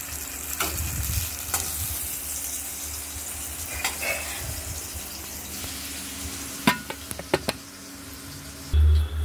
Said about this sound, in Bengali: এবার ফোড়ন দিয়ে দিয়েছি, তেজপাতা, লঙ্কা, কালো জিরে